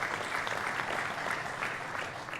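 An audience at a startup pitch session at the Expo Real trade fair claps steadily, a fairly quiet, even wash of applause with no talk over it.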